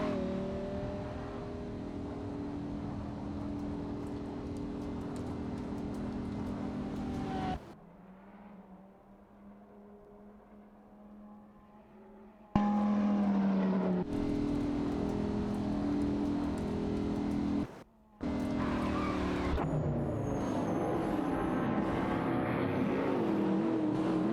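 Race cars in an AI racing video game roar along with steady, loud engine drones that shift in pitch, broken by a few abrupt quieter cuts and a brief dropout.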